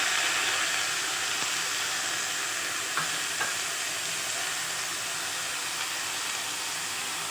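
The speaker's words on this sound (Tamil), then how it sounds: "இப்போ நம்ம ஒரு கைப்பிடி அளவுக்கு புதினா இலையை சேர்த்துக்கிறோம்" A handful of mint leaves dropped into a pan of sautéed onions, giving a continuous even sizzle and hiss with light stirring scrapes, no voices.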